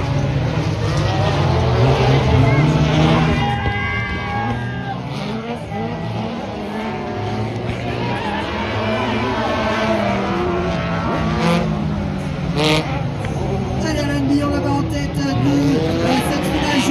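Race car passing at a night race at Faye-l'Abbesse, heard from trackside as a sustained, fairly loud engine drone that rises and falls as it goes by, with a steady background wash from the crowd and circuit.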